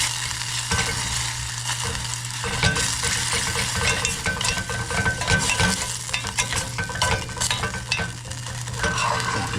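Garlic and tomato paste sauce for deep-fried venison Hunan gets stirred in a pan, with steady sizzling and frequent scraping and clinking of a utensil against the metal throughout, close and fairly loud.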